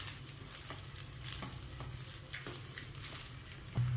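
Mango tamarind rice is stirred in a pan with a soft sizzle of frying underneath and repeated light scraping strokes of the spoon, close but quiet.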